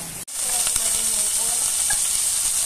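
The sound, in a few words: tofu frying in a pan until golden brown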